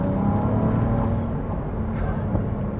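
Ferrari 296 with a hybrid V6 engine downshifting on a rough road, a heard-from-inside engine drone with subtle shifts in pitch, steady and fairly loud, no talking.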